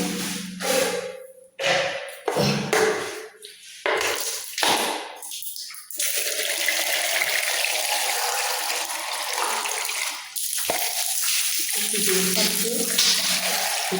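Water runs from a household tap as a cleaned faucet is rinsed, first in short bursts between speech, then as a steady loud gush for several seconds.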